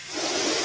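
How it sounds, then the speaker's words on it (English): A window washer's sprayer hisses outside a home, a steady broadband rush that swells slightly and holds for under a second with no talk over it. "Sorry, there's a window washer spraying."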